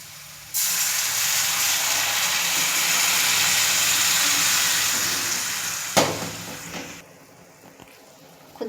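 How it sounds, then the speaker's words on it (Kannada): Water poured into a hot pan of turmeric powder gives a loud, steady hiss that swells and holds for several seconds, then breaks into a sharp clatter and fades to a quieter simmer. "ಆಗಿದ್ಮೇಲೆ ಸ್ವಲ್ಪ ನೀರು ಹಾಕೊಳ್ಳೋಣ್ರಿ"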